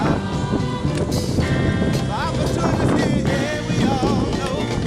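Strong wind buffets the microphone outdoors on a walking expedition across Ukraine, a constant rough roar with gusty swells. Faint voices come through underneath.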